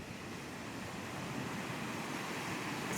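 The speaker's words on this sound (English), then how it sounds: "Now check the river behind me." Flowing river in a forest along the Chuanzang Middle Line in Tibet, heard as a steady, loud, broadband rush of water with wind noise, continuous and unbroken throughout, with no voices.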